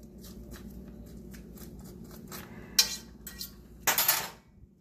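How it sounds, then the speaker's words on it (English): Meatballs in sauce with roasted spaghetti squash being stirred in a Lodge dutch oven, giving soft clinks and scrapes of a utensil against the pot, with two louder clattering bursts near the end over a quiet background. "I'm just stirring it up to try to get all the sauce covered, everything, and get everything incorporated well."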